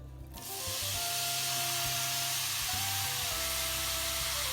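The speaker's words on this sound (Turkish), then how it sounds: "Soğanlarımızı, sarımsaklarımızı güzelce kavuralım." Grated onions and garlic sauté in olive oil in a pan, starting with a sudden loud sizzle that settles into a constant, close hiss with faint clinks of stirring.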